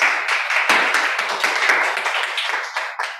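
Audience applause at a Toastmasters club meeting, a dense burst of many hands clapping close by, loud and steady before thinning out toward the end.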